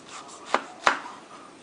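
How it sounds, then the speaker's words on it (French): Knife slicing the crown off a ripe yellow pineapple, two sharp crunching cuts about a third of a second apart, close and clear over a quiet background. "On va couper aussi la tête."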